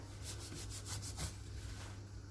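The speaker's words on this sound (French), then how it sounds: "on frotte la farine dedans, comme ça le mélange il se mélange bien" Hands rubbing flour into a biscuit dough mixture make a soft, close, rhythmic gritty rustle, several quick strokes that fade toward the end.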